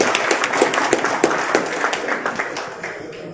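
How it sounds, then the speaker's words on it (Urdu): Applause from company dealers seated at a business meeting: a steady patter of many hands clapping, moderately loud and continuous, with a few sharper individual claps standing out and fading slightly toward the end. "تالیاں بجاتے ہیں کمپنی والے بیٹھے ہیں"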